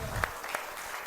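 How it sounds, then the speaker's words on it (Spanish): A church congregation clapping together, a short burst of steady applause heard from within the room. "Un aplauso para el Señor."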